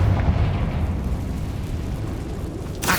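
A Confringo spell explosion in the video game Hogwarts Legacy roars with a loud rumbling blast that slowly fades, and a sharp new burst cuts in right at the end.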